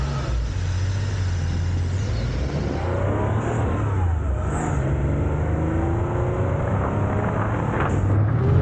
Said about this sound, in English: the first thing you notice is the howl of that flat six, that air-cooled flat six.